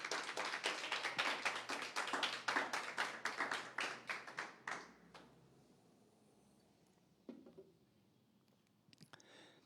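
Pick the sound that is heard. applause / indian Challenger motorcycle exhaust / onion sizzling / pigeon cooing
applause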